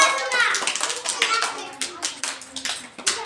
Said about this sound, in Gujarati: તાળી પાડો